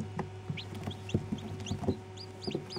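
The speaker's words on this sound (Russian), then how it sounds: "Но цыплятки все активные." Newly hatched chicks, some still wet, cheep from an incubator in a steady scatter of short, high, rising peeps, close and fairly loud over a low hum, with soft knocks and shuffling between calls.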